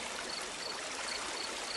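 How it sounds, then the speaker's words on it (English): A creek running through a meadow gives a steady, unbroken rush and trickle of flowing water, close and even throughout with no voices. "This creek here is... I guess it's just called the creek."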